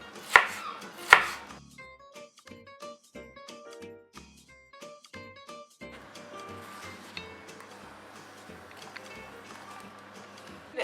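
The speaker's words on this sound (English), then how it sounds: "Cut it into very thin strips, and then into tiny cubes." A knife chopping pepper on a cutting board into thin strips and then tiny cubes, two sharp loud chops followed by a long run of quick, even, close taps, with no talk.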